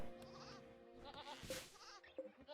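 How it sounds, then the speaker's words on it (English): Goats in the Rimworld video game bleat in short wavering cries, several overlapping calls close by with a background hum in between. "I hear another goat being slaughtered, and another one"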